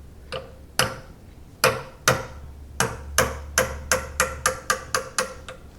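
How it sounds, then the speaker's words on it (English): Light metal taps on a punch strike a part of a 1960s Craftsman drill press clamped in a vise. About fifteen sharp, close clicks come in an uneven rhythm that speeds into a quick regular series, with no speech. "I'm going to give this thing some light taps and see if I can get it to move"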